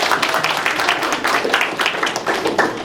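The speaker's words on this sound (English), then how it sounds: "Let's give him a round of applause" An event audience applauding a sponsor, a steady, dense round of clapping from many hands filling the room throughout.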